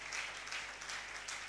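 Church congregation applauding in worship, a steady, dense wash of clapping from many hands, moderately distant and sustained without pauses.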